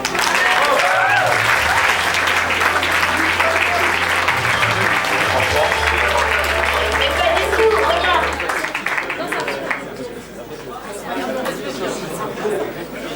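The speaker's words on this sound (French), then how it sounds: "Je vous prie d'applaudir Jean-François Copé" An audience at a French stand-up comedy show applauds Jean-François Copé, a dense, loud roll of clapping that carries for several seconds and then tapers off as chatter rises through the room.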